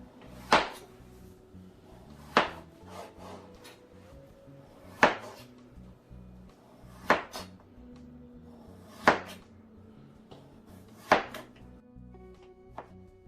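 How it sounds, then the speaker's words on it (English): A knife chops potatoes into chip-size pieces on a board, giving six sharp, evenly spaced cuts about two seconds apart, close and clear with quiet pauses between them. "I am cutting up the potatoes into chip size because I'm gonna be making potato chips to go with the fish."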